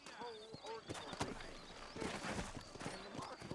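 Horse hooves clip-clopping at a steady walk in the Western frontier town of Red Dead Redemption, faint and close under a voice talking.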